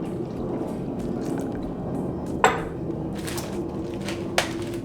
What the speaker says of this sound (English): Now we're going to add our 4 cups of water.